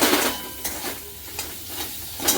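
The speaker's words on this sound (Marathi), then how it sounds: "बटाट्यानं असं तोडून घ्यायचे बारीक बारीक करून घ्यायचे" Cooked potatoes being broken up finely with a spatula for a cheese masala dosa filling, a steady scraping and stirring against the pan with soft sizzling and a few sharper clinks, close and continuous.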